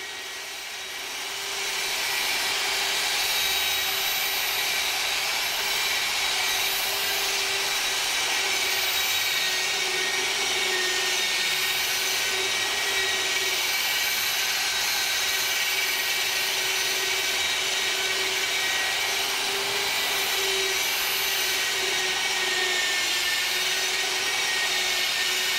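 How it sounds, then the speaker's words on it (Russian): A polishing machine fitted with a fur polishing disc and paste runs as a steady, loud whir with a constant pitch throughout, rising up from a quieter start, with no talk. "Лучше всего работа пасты видна при применении ее с меховым полировальным диском."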